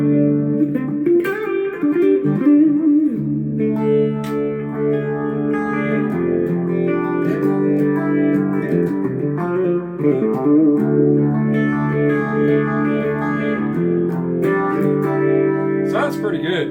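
Electric guitar played through a Boss Katana Mini X practice amp with delay, reverb and phaser effects, sustained chords and notes ringing continuously with echoing tails, loud and close throughout.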